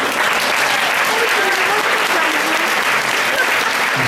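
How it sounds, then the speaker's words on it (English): A convention panel audience claps steadily and loudly for several seconds, a dense continuous wash of applause filling the room. "You guys give yourself a round of applause."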